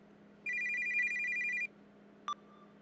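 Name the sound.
phone ringing in an RPG Maker horror video game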